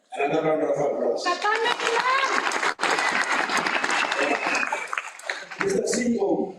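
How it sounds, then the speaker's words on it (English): A graduation ceremony audience breaks into dense, loud applause that swells and carries on for several seconds with a brief dip midway, mixed with scattered crowd voices and cheers. "Another round of applause."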